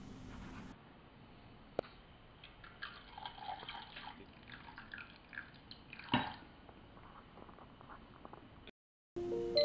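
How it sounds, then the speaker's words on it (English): Water being poured into a saucepan of sugar, making faint, close trickling and dripping sounds with a few small splashes, heard alone without talk. "We now fill the saucepan with sugar and pour just enough water to damp and cover."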